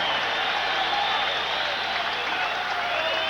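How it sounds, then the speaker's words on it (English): A large boxing crowd fills the arena with sustained, roaring applause between rounds, a broad steady wash of clapping and cheering under a commentator's voice. "the crowd continues that thunderous applause"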